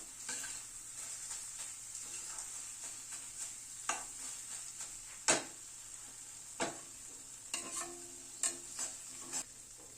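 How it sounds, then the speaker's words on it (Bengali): Chopped cashews and small-cut raisins are stirred together as a dry fruit mix with cardamom close by, giving a soft steady scraping with a few sharper clinks and taps of the spoon against the pan, fairly quiet and without talk. "ড্রাই ফ্রুটসগুলোকে মিশিয়ে দিচ্ছি।"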